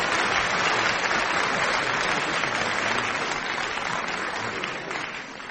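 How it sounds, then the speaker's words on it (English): An audience claps in sustained, dense applause after a song in a radio panel show, steady and full before easing off slightly at the end. "I don't think that song has received a round of applause for lo these 40 years"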